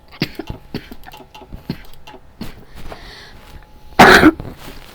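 A man coughs once, sharply and loudly, over a stretch of clicking and soft background noise, with no talk during it.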